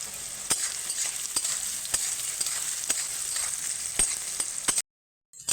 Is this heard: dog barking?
no